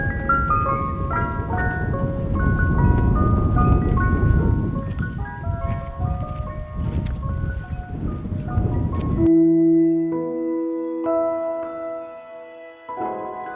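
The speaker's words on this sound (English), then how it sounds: "Told you it was an ice cream truck, man." Ice cream truck chiming its tinkly jingle over street rumble, then the melody continues louder and clearer alone after the background noise cuts away.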